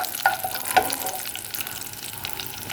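Raisins fry in hot ghee in a pan, giving a close, steady sizzle with a couple of brief sharper pops near the start and no voices.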